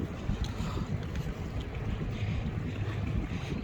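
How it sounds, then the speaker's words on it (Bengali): Boat carrying workers across the water to an island in Singapore, a steady engine rumble blended with wind buffeting and water wash, loud and continuous throughout, with no talking. "এই যে বোট দেখা যাচ্ছে, এই বোট দিয়ে আমাদেরকে নিয়ে আসে"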